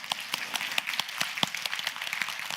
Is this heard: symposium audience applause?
yes